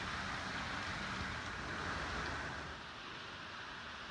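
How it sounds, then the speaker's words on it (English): Heavy rain falls during Hurricane Harvey in Braeswood Place, Houston, a steady hiss of downpour on surfaces with faint rumble beneath, easing slightly near the end. "The rain has finally let up just a little."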